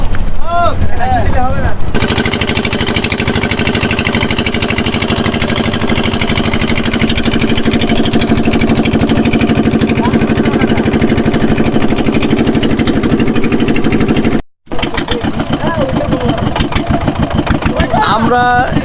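A boat engine on Tanguar Haor runs with a loud, steady mechanical drone for most of the stretch, cutting out briefly before resuming, while people talk nearby.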